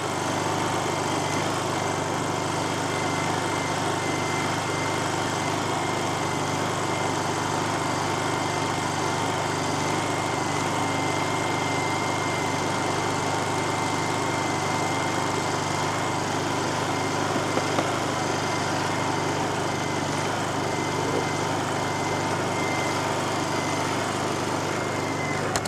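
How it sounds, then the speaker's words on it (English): A Honda EU generator runs at a steady, loud idle throughout, its engine drone constant and unbroken with no voices over it. "That's as loud as this carburetor on this generator gets."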